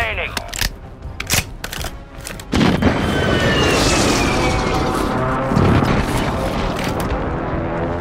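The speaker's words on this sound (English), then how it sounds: "Friendly airstrike in the AO." Airstrike explosions in the Warzone Rebirth video game: a few sharp, loud blasts and cracks, then a heavy continuous roaring rumble as the bombardment lands.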